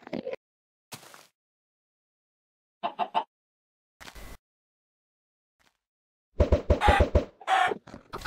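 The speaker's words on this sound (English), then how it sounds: "No, chicken!" A Minecraft chicken clucks in short, sparse bursts separated by silence, with a few isolated blips early on and a busier run of rapid clucks near the end, moderately faint overall.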